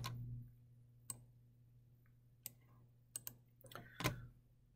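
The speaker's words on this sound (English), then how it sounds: "I just use the delete button on the keyboard." Sparse computer keyboard key presses, a few isolated clicks and a quick double tap, close and fairly faint in a quiet room with no talking.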